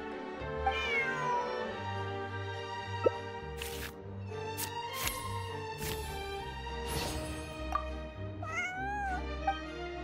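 A cat in the video game Genshin Impact meows repeatedly, several clear close meows scattered over game music with soft drip and plop effects between them.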